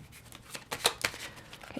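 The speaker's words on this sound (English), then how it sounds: "I just like showing the cards, like me shuffling them." Tarot cards riffled and shuffled by hand at close range, a series of soft papery flicks and snaps with two sharper bursts midway, no voices.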